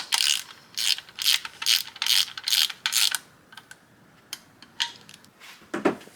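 A ratchet wrench tightens bolts on a turbocharged Mazda Miata engine being built, giving a rapid, close run of crisp clicks, then scattered single clicks and a final short burst.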